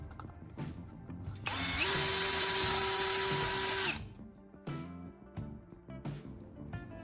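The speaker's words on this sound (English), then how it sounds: "Using a drill, I'm carefully making small holes at each of the marked points." A power drill bores small holes into a plastic bottle, a loud sustained whine of about two seconds rising over clattering handling noises, with shorter knocks and rattles before and after.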